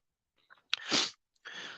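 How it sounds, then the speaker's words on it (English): Two loud, close sneezes from a person with an itchy nose: a sharp intake and explosive burst, a short pause, then a second breathy sneeze. "now I just can't stop sneezing"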